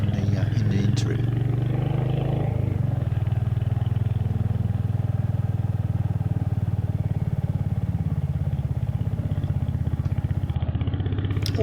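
A Royal Enfield Hunter motorcycle on the move, its steady low engine drone and exhaust thrum loud and continuous throughout, with road and wind noise layered over it.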